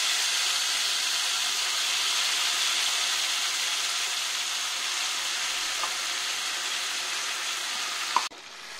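Prawns fry in hot oil in a wok, a steady loud sizzle and hiss running throughout, ending with a brief clatter as the sizzle drops; no talk.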